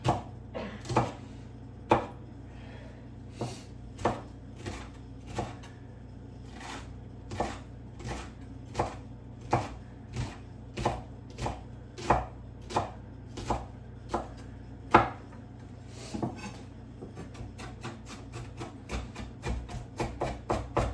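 A knife slices an onion thin on a cutting board, giving a long, steady series of sharp, evenly spaced chops that speed up near the end. No one talks.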